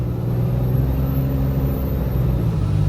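A Cummins-swapped truck engine runs at half throttle on the road, a steady loud low diesel drone that holds an even pitch throughout, heard from inside the cab.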